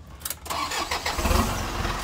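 An Isuzu truck engine with no exhaust pipe fitted cranks and catches, then runs with a loud, raw, rumbling roar, close by.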